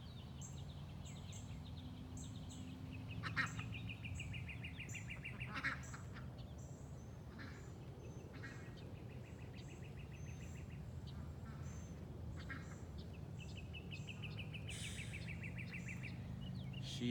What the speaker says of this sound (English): Got the duckies over here.